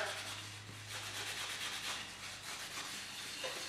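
A cloth rubs Tried and True oil finish into a wooden bowl, making a soft continuous swishing scrub with faint circular strokes, close and quiet.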